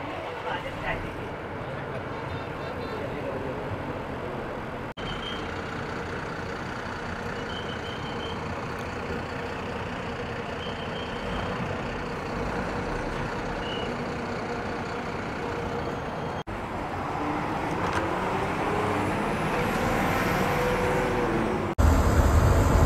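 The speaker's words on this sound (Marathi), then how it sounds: "तळेगाववरनं आपली गाडी सुटत आहे मित्रांनो." An MSRTC ST bus pulls away from the Talegaon stop and cruises along the highway toward Kolhapur, its engine drone and road rumble steady and continuous from inside the cabin, swelling slightly near the end, with voices over it.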